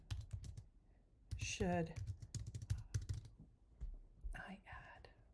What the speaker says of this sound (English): Oops, ignore my typing.